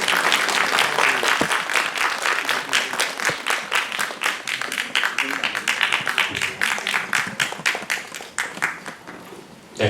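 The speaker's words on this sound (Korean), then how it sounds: "앞으로 나와주시면 큰 박수 부탁드리겠습니다" An audience at a film festival press event after a world premiere screening applauds loudly with dense, sustained clapping that thins out and fades toward the end.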